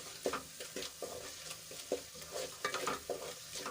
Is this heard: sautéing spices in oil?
yes